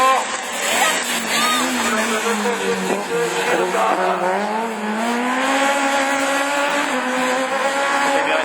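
Clio Super 1600 rallycross car racing at Lessay, engine note rising and falling steadily throughout, with a commentator talking over it.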